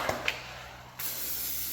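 Brake buster cleaner sprayed from an IK pump sprayer on a 1968 Camaro's wheels, a couple of short pump clicks followed by a steady, soft hiss of spray.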